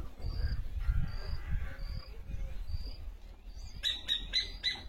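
Faint, distant bird calls over low background rumble, ending with a quick burst of brighter chirps.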